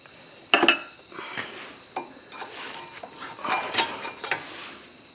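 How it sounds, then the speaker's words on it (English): Front brake pads pulled from the caliper of a 2012 Nissan Altima, a few sharp metallic clinks and rattles followed by lighter scraping and tapping, close up with no speech. "Take our pads out."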